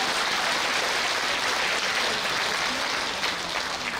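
Audience applause fills a lecture hall during a talk on drug addiction: dense, steady clapping from many hands that holds throughout and fades only slightly at the end.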